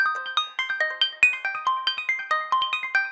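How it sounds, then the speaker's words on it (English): Omnisphere synth patch playing a rapid arpeggio, bright plucky notes repeating in an even, quick rhythm, each one sharply attacked then decaying, clear and alone with no talking. "sounds like this in omnisphere that have an arpeggio"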